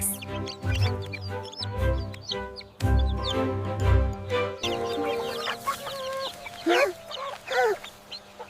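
Several cartoon chickens cluck and murmur close by in short, uneven bursts, with occasional rising squawks over a soft background hum.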